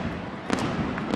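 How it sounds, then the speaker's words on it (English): Fireworks going off at a baseball stadium during a game, a couple of sharp bangs within a second over a dull crowd wash. "the fireworks guy heard the crowd and set off a couple of fireworks"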